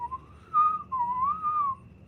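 A person whistles alone in a quiet room: a short, breathy warble that slides up and down over about two seconds, moderately close and a little uneven.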